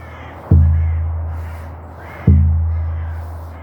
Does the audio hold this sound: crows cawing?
yes